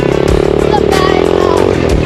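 An SSR 125 dirt bike engine revving loudly and close up as the rider shifts up to third gear, with a buzzing, fluctuating motor note and some clatter throughout.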